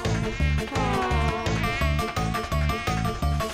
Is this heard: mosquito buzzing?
yes